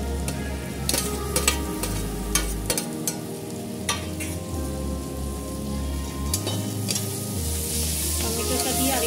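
Ground spices with Kashmiri chilli powder frying in oil in a pan for Bengali fish kalia, a steady close sizzle with scattered crackles and spoon scrapes, no talk.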